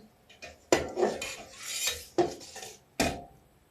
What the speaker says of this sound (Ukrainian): Так легенько їх поворушити тут, щоб вони там не злиплися.